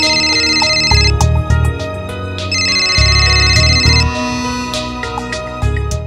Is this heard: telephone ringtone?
yes